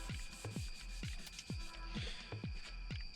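Close, rhythmic rubbing strokes applying sanding sealer to turned wood, about six back-and-forth passes in a steady scraping pattern.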